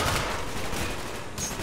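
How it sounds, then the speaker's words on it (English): Gunfire from the Call of Duty: Black Ops campaign, a steady dense burst of shooting filling the whole moment at moderate, even loudness with no voices over it. "Would you stop shooting at me, please?"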